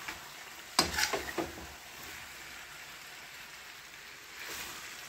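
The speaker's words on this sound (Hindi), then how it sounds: "चलिए अब इनको मिला लेते हैं मसाले में।" Potatoes are stirred into masala in a frying pan. A brief cluster of scraping, sizzling clatter is followed by a quieter steady fry.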